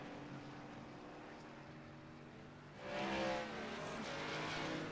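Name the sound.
ARCA stock race cars racing at Watkins Glen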